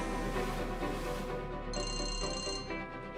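A telephone rings unanswered, its electronic ringtone repeating in steady bursts over a dense, busy background of music or ambience, with no one picking up.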